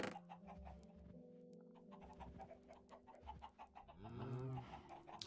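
Chickens cluck in Minecraft, a string of quiet repeated clucks over a low game hum, with a louder rising call near the end.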